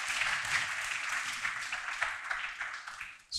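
A crowd gathered for a meditation event applauds the organizers with steady, fairly faint clapping lasting a few seconds.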